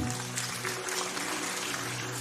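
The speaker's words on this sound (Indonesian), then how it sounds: "Tepuk tangan." A church congregation at a GSKI Rehobot sermon breaks into steady, dense applause that fills the room evenly, with a low sustained tone beneath it.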